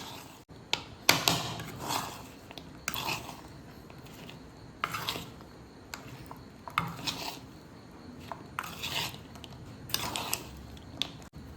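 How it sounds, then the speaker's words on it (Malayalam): Sharkara upperi, fried banana chips being tossed with sugar, produces intermittent bursts of dry rattling and scraping at close range, separated by short quieter gaps, with no voice. "ലെയർ ലെയർ ആയിട്ടാണ് നന്നായിട്ട് ഇട്ടിട്ട് ഇളക്കി കൊടുക്കുക"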